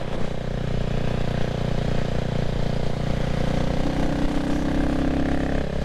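A CCM Spitfire Six motorcycle being ridden gently during its running-in period, its engine droning steadily at moderate revs close by, with a slight rise in pitch partway through.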